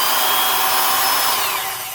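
An old Milwaukee 1001 half-inch D-handle drill, freshly regreased, runs with a smooth, steady, loud motor whine close up, easing slightly at the end, with no talking.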